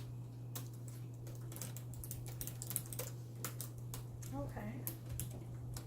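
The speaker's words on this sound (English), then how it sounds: "let me go ahead and type that info in" Typing on a computer keyboard at an apartment manager's desk: a steady run of close, crisp key clicks with a low hum beneath, and a voice speaks briefly.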